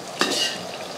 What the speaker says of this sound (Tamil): தப்பு தப்புன்னு கொதிக்குதே ஸ்டவ்.